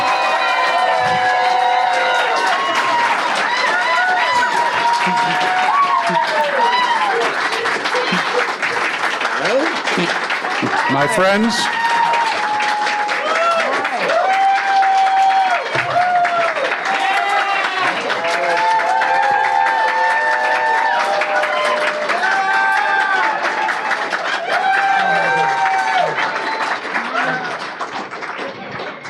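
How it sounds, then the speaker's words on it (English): A large convention crowd at a Pinky and the Brain panel at Retro Con 2025 applauding, cheering and stamping their feet in a loud, continuous roar, with whoops and shouting voices riding over the clapping throughout. "Big round of applause, stamp your feet"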